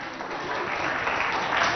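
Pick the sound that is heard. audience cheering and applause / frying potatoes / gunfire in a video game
audience cheering and applause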